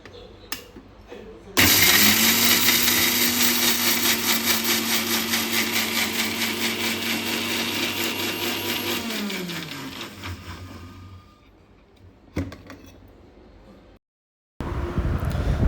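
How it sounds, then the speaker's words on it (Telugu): A kitchen mixer grinder whirs loudly as it grinds garlic, coriander seeds and cumin for a fish curry paste, starting abruptly, running steadily for about eight seconds and winding down, then a brief second pulse after a pause. "మనం దీన్ని మూడింటిని గ్రైండ్ చేసుకోవాలి, మిక్సీ పెట్టాలి"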